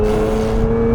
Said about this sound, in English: we do have the fantastic V6 supercharged